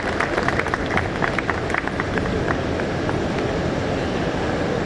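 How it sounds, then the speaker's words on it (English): Sustained round of applause from a large audience at a court e-library inauguration ceremony, a dense, steady wash of many hands clapping that stays loud throughout without a break. "So all please welcome with"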